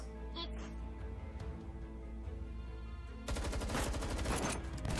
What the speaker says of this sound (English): Gunfire explodes in the yard.